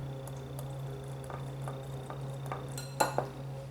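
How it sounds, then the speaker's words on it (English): A whisk taps and scrapes through dry flour, baking soda and salt in a bowl, quick light clinks close by over a steady low hum, with a couple of sharper knocks near the end. "we whisked together our flour, baking soda, and salt"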